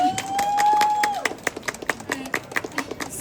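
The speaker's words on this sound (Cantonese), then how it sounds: "俾掌聲咗啦！" Scattered hand claps from an audience at a book launch event for the book 《觸格物語》 at the Hong Kong Book Fair, sharp irregular claps ringing out after a brief sustained tone, moderately close.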